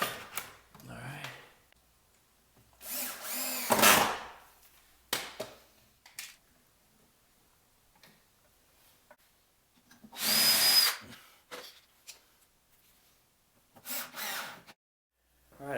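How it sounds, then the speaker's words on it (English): A power drill drives screws into a shop-made wooden mobile tool base, giving short whirring bursts of the motor separated by quiet gaps, with a few faint knocks and handling noises in between, close and moderately loud. "Put a screw in there."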